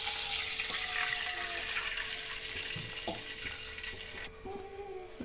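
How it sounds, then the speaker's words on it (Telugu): A glass of water is poured into a hot pan where food was just browned, setting off a broad hiss and sizzle that fills the clip, with a faint metallic clink near the end. "ఇప్పుడు ఇదే ప్యాన్లో 1 గ్లాస్ వాటర్ వేసుకుందామండి"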